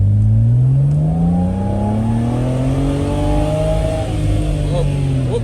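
A BMW 335i's engine revs up and sweeps through a sequential downshift, loud and close from inside the car, pitch climbing in a smooth, sustained rising whine.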